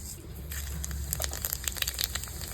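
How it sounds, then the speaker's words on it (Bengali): Bay leaf and five-spice seeds hit hot oil, giving a bright crackling sizzle with scattered pops that grows busier over a couple of seconds. "তেলের মধ্যে দিচ্ছি তেজপাতা ফোড়ন দিচ্ছি দিয়ে দিচ্ছি পাঁচফোড়ন"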